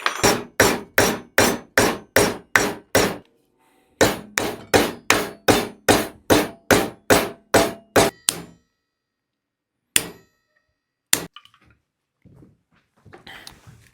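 Hammer pounding metal angle to bend griddle handles: two rapid runs of about a dozen sharp, evenly spaced ringing blows each, then a pause and a couple of isolated strikes, close and loud.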